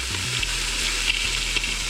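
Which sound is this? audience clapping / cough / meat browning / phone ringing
meat browning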